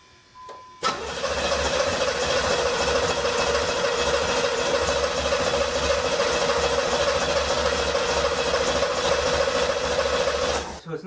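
The engine of a Pontiac Firebird Trans Am cranks steadily for about ten seconds without firing, the starter's loud rhythmic churning continuous and close, with no talking.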